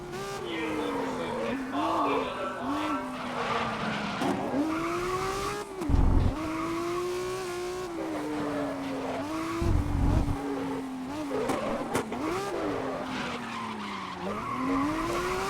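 Race cars in the GRID (2019) racing video game, one engine droning and rising in pitch through gear changes while tires squeal and skid repeatedly, loud and close, with brief thumping impacts partway through.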